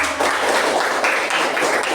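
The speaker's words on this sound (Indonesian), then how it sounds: "kasih tepuk tangan" A class of students applauds together in a short burst of dense, steady clapping that stays fairly loud and close for about two seconds.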